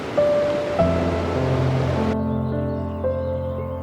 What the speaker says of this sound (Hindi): यहाँ पे नदी का शोर शराबा बहुत ज़्यादा है